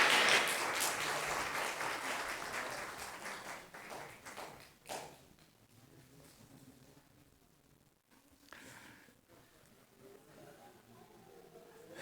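Church congregation during a Sunday service clapping briefly, a burst of applause that fades within about five seconds, followed by quieter room noise with a few scattered taps.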